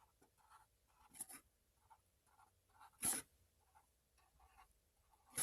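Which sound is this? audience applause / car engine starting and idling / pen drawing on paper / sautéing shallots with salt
pen drawing on paper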